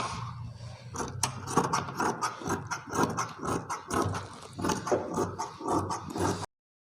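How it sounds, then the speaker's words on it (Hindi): Scissors cutting fabric for a frock, a rapid series of crisp snipping and crunching cuts repeating in an irregular rhythm, close and fairly quiet, with no talking. "अब इन निशानों पे होके करनी है कटिंग"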